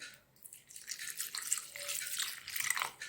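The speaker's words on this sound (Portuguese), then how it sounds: "Agora eu vou pôr um pouquinho do leite" Milk being poured into a batter mixture in a kitchen, a faint, soft trickling and splashing stream lasting a few seconds, quiet and close.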